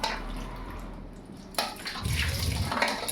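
Vegetables rinsed under running tap water, a steady close splash and trickle that swells louder in the second half, with no talking.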